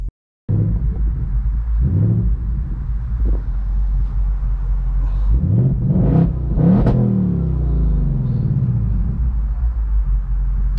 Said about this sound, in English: We have to experience the V8 sound